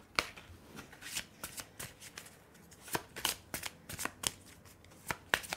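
Tarot cards are shuffled close up, a rapid, irregular run of crisp riffling and slapping bursts over several seconds, fairly quiet, with no talking.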